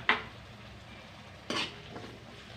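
A spoon stirring yogurt into a capsicum and potato curry in a metal pot: three brief scraping clinks spread over a couple of seconds against a quiet background.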